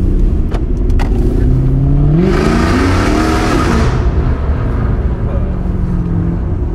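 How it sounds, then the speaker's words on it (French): A Mercedes C63 AMG with a straight-pipe, fully open exhaust revs hard close by, its engine note climbing in a loud, raspy sweep and then settling back to a burbling idle, with voices talking underneath. "Un C63 échappement libre, ça donne ça."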